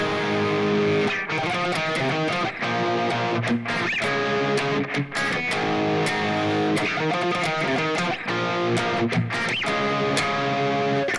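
An electric guitar with P90 pickups plays a run of strummed chords and picked notes, with a warm, slightly gritty tone, alone and fairly loud.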